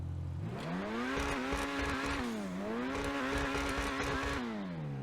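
A Lampadati Corsita sports car engine in GTA Online revs steadily, pitch climbing and falling through repeated gear shifts, loud and continuous with no one talking.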